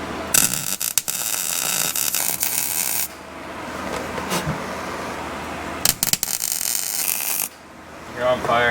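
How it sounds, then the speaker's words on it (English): Galvanized metal being welded for a pre-bent roll cage in a WJ Grand Cherokee: loud, steady crackling buzz of the arc in several long runs broken by brief pauses, with a fan running. "That's the smell of galvanized metal getting welded"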